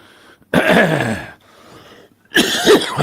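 Two loud, harsh coughing fits, close up, separated by a short pause with a softer throaty rasp between them.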